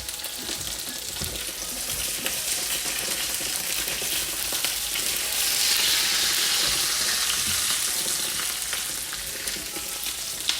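Food sizzling and frying in a hot pan while being cooked for a spring salad, a steady, close hiss that swells slightly midway and carries on without a break.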